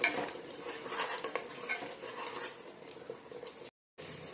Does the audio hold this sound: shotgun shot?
no